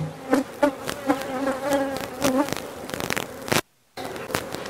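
Honeybees buzz around beehives, a close, steady drone with sharp bursts as individual bees fly near, broken by a brief silence before the buzzing resumes.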